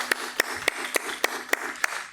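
Church congregation clapping in welcome, heard as crisp, evenly spaced claps falling in a steady beat, roughly three or four per second, with nothing else audible between them.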